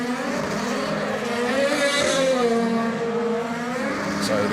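DTM race cars lapping Misano in evening qualifying, engines droning and shifting pitch as they pass at a moderate distance, with a faint commentary voice underneath.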